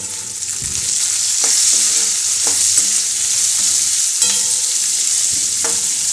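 Bottle gourd peel chutney is stirred in a pan, giving a steady close sizzle broken by repeated scraping stir strokes at an irregular rhythm, loud and with no talking.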